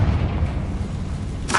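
The Confringo blasting spell in the Hogwarts Legacy game, a deep, rumbling boom sustained under the whole moment, ending with a brighter hissing burst.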